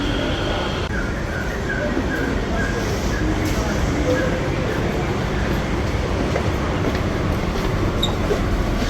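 Steady rumble of a moving train carriage, a constant low roar with faint rattling and muffled voices underneath.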